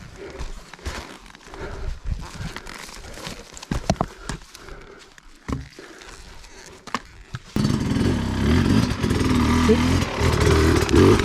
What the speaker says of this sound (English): bike going, first gear, get up on the pegs